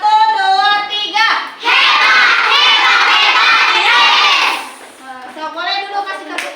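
A classroom of children shouts a loud group chant in unison, preceded and followed by a teacher's and children's talking, the burst of massed young voices rising abruptly and holding for several seconds before dropping away.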